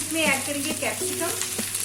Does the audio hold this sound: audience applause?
no